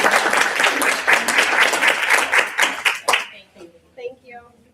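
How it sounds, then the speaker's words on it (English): A crowd at a board general meeting applauds with dense, steady clapping for about three seconds, then it cuts off abruptly, leaving quiet with faint scattered sounds. "A big round of applause."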